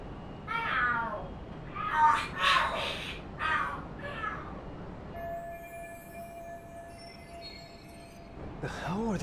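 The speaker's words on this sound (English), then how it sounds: "Are there cats fighting? What are they screaming for?" Cats fighting and screaming in the video game Lost Judgment: several loud, wavering yowls rise and fall in bursts over the first few seconds, then fade to a quiet steady hum before one more shriek near the end.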